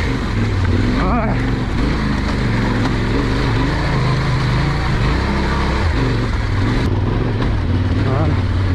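Yamaha Ténéré 700 adventure motorcycle engine held under throttle, a loud steady drone with slight rises in revs, close to the rider and continuous throughout.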